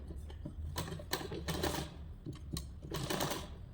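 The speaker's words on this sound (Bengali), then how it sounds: "এইভাবে আমরা সোজা করে হাফ ইঞ্চি দূরত্বে সেপ বরাবর লম্বা সেলাই করে নিচ্ছি" A sewing machine stitches a long straight seam half an inch from the edge of blouse fabric, with main and lining cloth pinned together. The motor runs loud and close in short bursts with brief pauses, and nothing else is heard.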